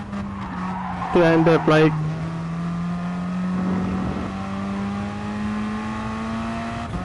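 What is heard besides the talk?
race car skidding sideways in Gran Turismo Sport video game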